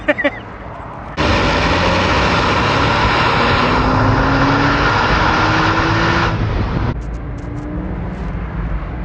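A Porsche 986 Boxster S engine revs hard and holds a loud, sustained high-rpm wail for several seconds before dropping off, with brief voices at the start and end.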